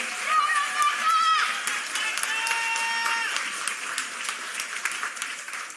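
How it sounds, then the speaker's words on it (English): Audience applause for a graduate at an adult continuing education commencement, sustained crowd clapping mixed with cheers and whoops, loud and continuous, with voices calling out over it. "let's give Rebecca a well-deserved round of applause"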